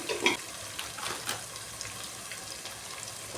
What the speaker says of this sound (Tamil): அந்த எண்ணெயிலேயே வதக்கிக்கலாம்.